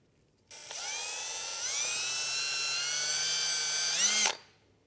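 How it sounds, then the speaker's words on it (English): Power drill boring a small pilot hole during a trailer brake controller installation on a 2024 Jeep. A steady high whine runs for about four seconds, rises slightly in pitch partway through, then stops abruptly. Close, loud and without speech. "I can drill a small pilot hole"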